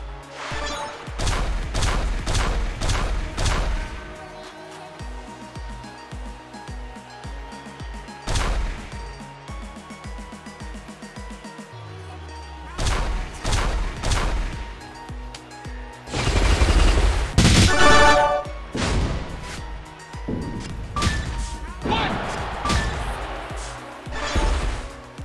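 Gems shatter in the match-three video game WWE Champions during a Rick Rude finisher, a string of sharp crashing impacts in bursts separated by quieter game music, with a heavy crunching smash near the end.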